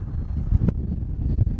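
Wind gusts buffet the microphone near a SpaceX Starship site, making a low, continuous rumbling roar with occasional harder thumps.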